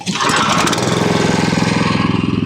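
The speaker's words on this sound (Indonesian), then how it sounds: "Pertama-tama saya akan menghidupkan dulu mesinnya." A Firman FTL610W cultivator's small engine catches and runs, giving a loud close rapid thudding putter with a busy mechanical rattle, steady and unbroken with no voices over it.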